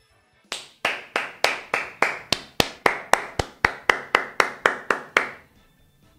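About sixteen evenly spaced hand claps from a single person, crisp and close with short decays and a steady rhythm, then silence.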